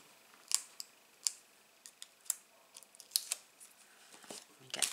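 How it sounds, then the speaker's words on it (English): Backing strips peeled off adhesive tape on a cardboard gift box, a series of quiet, crisp ticks and short crackles in an irregular rhythm, close by and otherwise quiet. "just peel your backings off"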